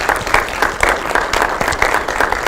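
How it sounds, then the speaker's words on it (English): Lively applause from a city council meeting audience recognizing city employees, full and continuous with scattered sharper claps across its short length. "let's give all the employees a round of applause for everything that you all do."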